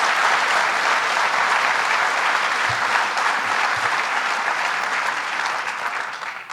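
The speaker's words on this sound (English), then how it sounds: "Let's give him a round of applause." Sustained loud applause from an audience at a governor's jobs announcement in Dunkirk, dense steady clapping filling the room throughout and tapering slightly at the end.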